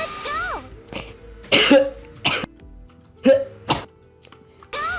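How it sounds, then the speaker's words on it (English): Several harsh coughs come in bursts, a couple close together then a pause before more, loud and close, with some throat noise between. "here's a Patreon moment where I coughed to death"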